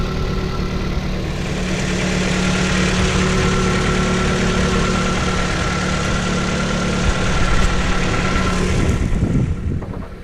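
A 2.4-liter four-cylinder car engine idles after a cold start on a snowy February day, a loud, steady, close drone with a low hum that runs unbroken throughout.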